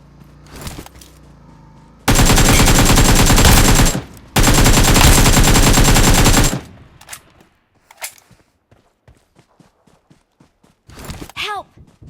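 Machine gun fire in the battle royale game PUBG comes in two long, loud, rapid bursts lasting a few seconds each. Scattered clicks, footsteps and short game effects follow in the quieter stretch afterward.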